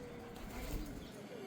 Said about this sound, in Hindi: और ये थोड़ी हेल्दी लग रही है यार, ये तो मोटी मोटी लग रही चिड़िया।